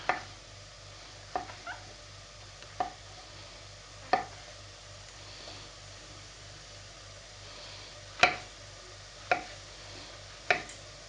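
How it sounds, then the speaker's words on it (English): A knife cuts through a mushroom on a board in sparse, separate chops, about seven distinct thuds spread over several seconds against a faint background hum. "I'm going to quickly cut up this mushroom and add to that mix"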